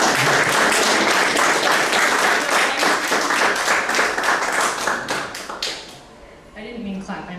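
An audience applauds loudly and steadily, dense clapping that tapers off near the end as a voice speaks over the fading claps.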